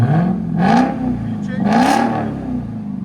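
A 2022 Dodge Charger SRT Hellcat with a 6.2L supercharged HEMI V8 and straight-pipe exhaust is revved lightly outdoors in the cold, giving two rising, close, loud engine swells over a rumbling idle.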